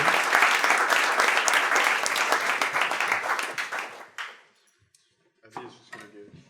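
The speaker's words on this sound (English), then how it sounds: "can we get another round of applause?" Audience applause at a technical meetup on programming zk-SNARKs on Ethereum: loud, dense clapping for about four seconds that thins out and stops, followed by a near-silent pause and a few faint sounds.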